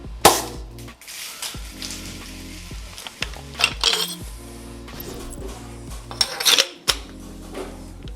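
A Matrix 40mm airsoft gas grenade loaded with a BB capsule discharges with sharp pops and clinking rattles, followed by bursts of hissing and metallic clatter, close-up with no voices.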